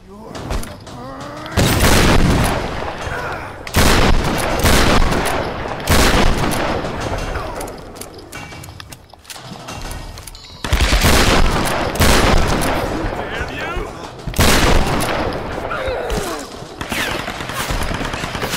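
Bursts of gunfire aimed at Lara in Tomb Raider: Definitive Edition's shanty town, loud, repeated volleys with brief gaps between them, and game sounds filling the spaces in between.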